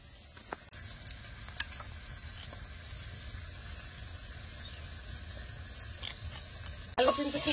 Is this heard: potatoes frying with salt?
yes